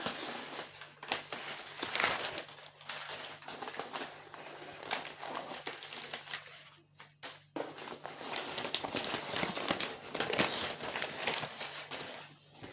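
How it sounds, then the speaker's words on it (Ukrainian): Packing paper is crumpled and rustled while unpacking a parcel of porcelain figurines, a continuous close crinkling with small crackles and soft handling noises at a fairly quiet level. "Ось так упаковано, багато паперу."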